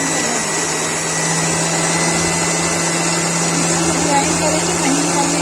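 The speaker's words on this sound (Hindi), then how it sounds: "ये नद्दू ग्राइंड हो गया" A kitchen mixer grinder runs steadily, grinding lotus stem (nadru) with ginger for Kashmiri nadru cutlets, giving a loud, continuous motor whine with a constant hum that holds unchanged throughout.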